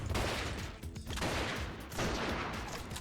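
Bomb explosion in the PC video game Artificial Defense, heard as a loud, dense blast of crackling gunfire-like bursts that roll on continuously, with a brief dip before swelling again.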